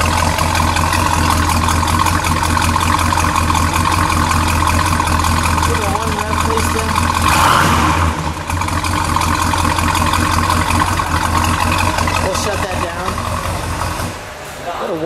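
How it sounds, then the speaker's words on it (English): A 1969 Oldsmobile Hurst/Olds replica's V8 engine runs at a steady, rumbling idle throughout, swelling briefly midway as it is revved, with voices talking over it. "exhaust note."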